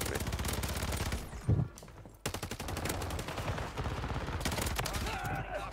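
Rapid automatic gunfire from a competitive shooter video game, dense bursts of shots stacking over one another, continuous and loud through most of the stretch with one brief lull.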